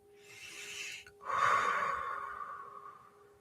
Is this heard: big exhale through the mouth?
yes